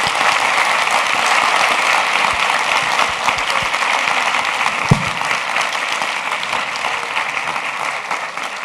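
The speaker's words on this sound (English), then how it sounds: "give him a big round of applause for being here with us" Sustained, dense applause from an audience at a university psychology school's academic year opening ceremony, even and fairly loud throughout, without talk.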